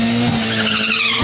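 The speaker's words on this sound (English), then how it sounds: "Spun really bad off the hole, guys." A Honda Civic Type R at a drag strip spins its tires hard off the line, a loud, continuous screech of wheelspin layered over a steady high engine note for the full moment, close and without pause.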